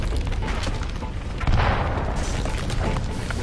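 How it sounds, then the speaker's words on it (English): A grenade goes off in the Mass Effect remaster video game, a single muffled boom midway through, sitting over a steady bed of game noise. "When you do go to hit reload, you throw a grenade instead and accidentally try to blow yourself up."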